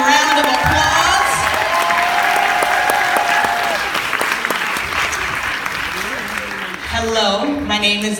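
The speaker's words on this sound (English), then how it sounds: "Can we give our graduating class of 2017 another round of applause?" A crowd at a high school graduation gives the class of 2017 loud, dense applause with cheering and whoops. It fades slightly and ends with voices talking over the tail.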